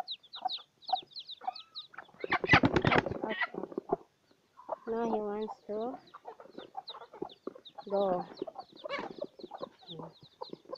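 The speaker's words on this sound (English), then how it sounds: "There's the wild rooster here." A wild rooster and chickens cluck and call nearby in short bursts, with a loud harsh burst early on. Someone speaks briefly between the bird calls.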